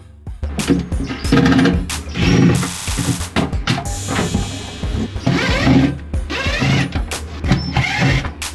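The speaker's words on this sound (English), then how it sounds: "We're just gonna put a strap underneath here and underneath here and ratchet it down." A ratchet strap being cranked tight over a lithium trolling motor battery, loud close bursts of rapid clicking pawl action in repeated strokes with brief pauses between pulls.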